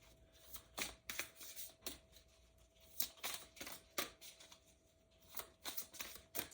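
Astrology cards being shuffled by hand, brisk riffling bursts and soft slaps in an irregular rhythm, close and moderately quiet, with no voices over it.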